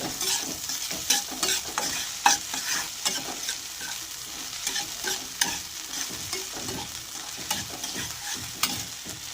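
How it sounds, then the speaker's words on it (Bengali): A tempering of spices, grated ginger and dried red chillies fries in oil under continuous stirring, giving a steady crackling sizzle with many quick spatula scrapes and clicks close by. "দেখুন ফোড়নগুলো ভাজা ভাজা হয়ে গেছে।"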